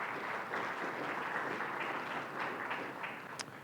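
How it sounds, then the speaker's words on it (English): A conference audience applauds at a closing plenary session, a steady wash of clapping held at an even level throughout, moderately loud with no talk over it. "Let's give them a round of applause,"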